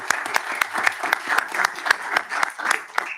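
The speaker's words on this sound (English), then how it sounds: "join me in applauding our panel for the excellent discussion that we had" A conference audience at an energy forum breaks into brisk, sustained applause for a panel, dense overlapping claps filling the room at close range.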